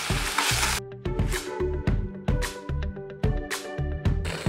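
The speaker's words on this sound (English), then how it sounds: "we'll give it a good stir." Shredded cabbage seasoned with vinegar, salt and pepper sizzles in a hot pan while a spoon stirs it in repeated scraping strokes, close and crackling in bursts.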